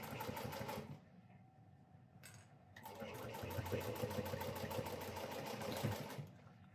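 A sewing machine runs a stay stitch on bag fabric in two bursts of rapid, even needle clatter, with a short pause between them.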